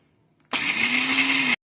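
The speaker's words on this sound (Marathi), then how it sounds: "सगळे ड्रायफ्रूट्स फिरून घ्यायचे" Kitchen mixer grinder whirring as it grinds dry fruits for laddoos, a single loud steady burst of about a second that starts and stops abruptly.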